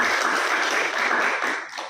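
Audience applause at a religious community motivational talk in Aceh, a steady dense wash of clapping that carries through nearly two seconds and then thins slightly at the end.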